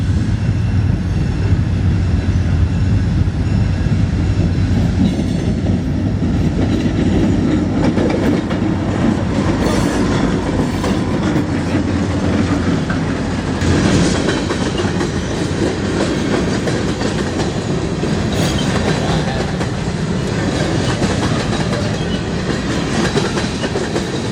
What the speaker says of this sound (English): Our first train here at Tower 17 X-Over is the Sealy Local, with a very unique second unit being a former Burlington Northern